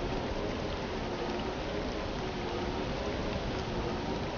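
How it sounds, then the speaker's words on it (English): Steady dense acid rain pours in the Star Wars: The Legend of Jaden Korr video game, a continuous broadband hiss with no breaks, loud and even throughout. "Ah, this rain's like acid."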